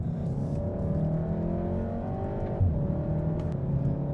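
A 2015 VW Golf R climbs a hill road in Bavaria, its engine droning steadily from inside the cabin with a rising then dipping pitch as it pulls, moderately loud and without talk.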